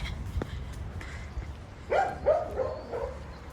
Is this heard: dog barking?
yes